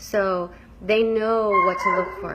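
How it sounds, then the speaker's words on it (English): A dog indoors gives a few close, loud whining barks and drawn-out whimpering howls, rising and falling in pitch, while someone speaks over them. "That's my dog. He's a little bit irritated with me right now."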